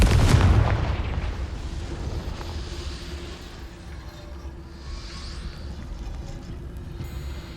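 A Confringo spell in the video game Hogwarts Legacy bursts with a loud, close booming blast at the start, then a long rumbling decay and a low steady drone fading beneath it.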